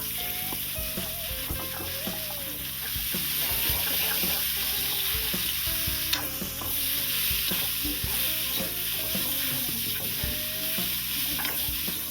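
Rampe (pandan) leaves frying in a pan, a continuous close sizzle with clinks and scrapes as a utensil stirs them, no voices.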